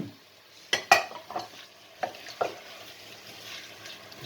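Curry with coconut milk, lemon juice and diced butternut squash simmers in a pan with a soft sizzle, while a spoon scrapes and clanks against the pan a few times; a voice briefly speaks.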